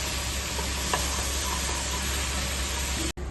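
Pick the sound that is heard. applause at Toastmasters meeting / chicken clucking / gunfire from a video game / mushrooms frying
mushrooms frying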